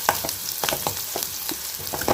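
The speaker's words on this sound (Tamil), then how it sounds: "இப்போ இந்த வெங்காயம் நல்லா வதங்குது." Chopped onions sauté in an oiled pan for a cabbage stir-fry, giving a steady close sizzle broken by scattered crackles and the scrape of stirring, with no voices.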